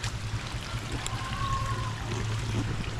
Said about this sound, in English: the water is flowing all the way down this way, and then you've got the water coming in off the field